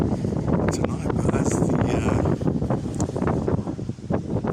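Wind blowing on the Southsea seafront in the evening: a steady, loud roar that buffets the microphone in uneven gusts, with faint voices nearby.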